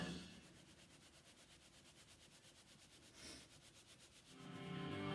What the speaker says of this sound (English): the icing sugar we're going to sift through the sieve, a little bit at a time